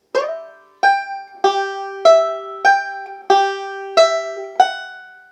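Plucked banjo notes in a slow sequence, about eight picked tones ringing one after another with pitch shifting as the hand slides up the neck.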